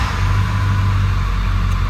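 A Ford F-250 pickup's 7.3L diesel engine runs at a steady, loud idle with a deep low rumble and clattering texture, close and continuous without any talk.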